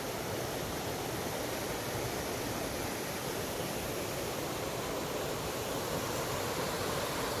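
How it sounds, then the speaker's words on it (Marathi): A village river flowing close by, its water coming down from a hill fort, producing a dense, steady rushing wash that stays constant and fairly faint with no talking. "वाहतं पाणी एकदम बाजूला वाहतं नदीचं पाणी"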